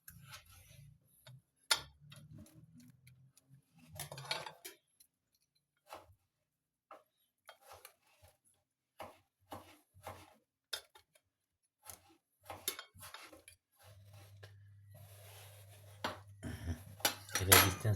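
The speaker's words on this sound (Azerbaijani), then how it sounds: "Və yenə də belə çəngəllə belə basırıq ki," A fork presses layered salad ingredients into a dish, giving sparse soft clicks and light scrapes of metal on crockery in a quiet kitchen, with a faint low hum toward the end.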